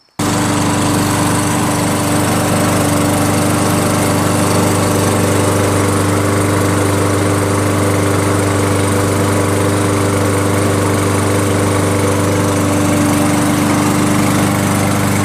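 A Lawn-Boy 20-inch lawn mower with a Kohler 149cc engine roars steadily and loudly for the whole stretch, a constant droning hum with no pauses.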